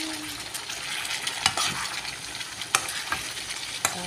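Chicken curry frying and simmering in a pan, a steady close sizzle with a few sharp clinks of a utensil against the pan.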